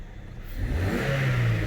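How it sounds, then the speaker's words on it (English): A car engine is revved during a diagnostic check: a quiet idle swells into a rising, whirring rev that climbs and holds near the end, with no speech. "So now watch as I give it a rev"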